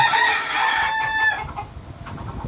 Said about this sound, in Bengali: এটা আমাদের ফার্মে মুরগির খামার